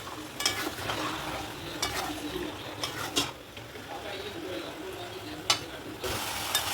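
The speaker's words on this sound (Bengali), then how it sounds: "এবার আমি মাংসগুলো এর মধ্যে দিয়ে কষিয়ে নেবো।" Chicken pieces frying with spices in a pan for chicken biryani: a constant sizzle with scraping stirs and a few sharper spatula knocks against the pan, fairly quiet and close.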